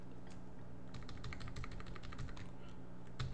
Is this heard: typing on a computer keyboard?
yes